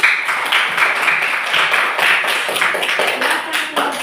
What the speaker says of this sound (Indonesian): Kita beri tepuk tangan untuk kelompok pelangi